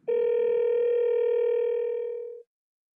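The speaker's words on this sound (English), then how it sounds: "tapping on a phone number calls that number" An iPhone dial tone on a call: one steady, loud electronic tone holding for about two and a half seconds, then cutting off cleanly into silence.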